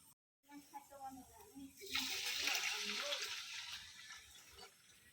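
Measured water poured into a pot of pulao, a rushing splash starting about two seconds in and easing off toward the end, close and fairly soft, following a stretch of quiet speech.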